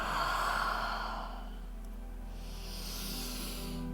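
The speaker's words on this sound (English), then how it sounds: "Three deep breaths here." Deep breathing during a yoga breathing exercise in a lung-focused session: one long, close breath, loudest at the start, then tapering into a softer, steady airy hiss.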